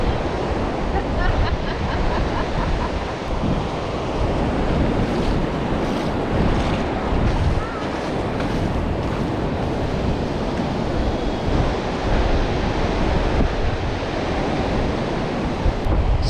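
Ocean surf rolls steadily onto a beach in Durban, a continuous broad wash of breaking waves with wind buffeting the microphone throughout, loud and unbroken with no distinct pauses.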